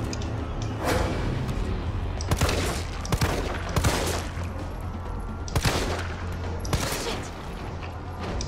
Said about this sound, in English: Why the hell are you even shooting, man?